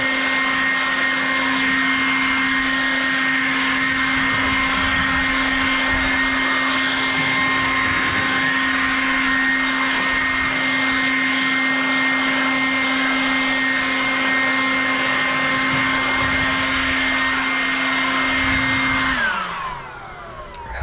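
A Ryobi 18V HP brushless cordless leaf blower runs close and loud with a steady high-pitched whine and airy roar, holding constant before spinning down at the end.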